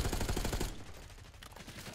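Rapid automatic gunfire from a Black Ops 6 match, a dense burst of loud close shots for under a second that cuts off, followed by fainter scattered shots and game ambience.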